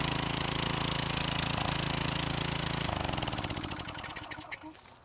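A weed trimmer fitted with stainless steel cable line runs loudly and steadily, then its engine winds down with slowing, sputtering pulses before fading out, with no talk.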